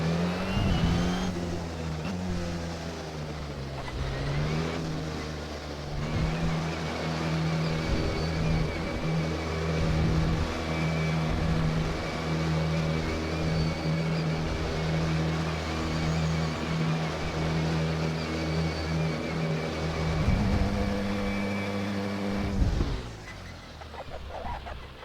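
A Porsche 919 Hybrid Le Mans prototype in the Assetto Corsa racing game rolls down the Le Mans pit lane, its engine holding a steady, loud hum with slight pitch shifts before easing down near the end.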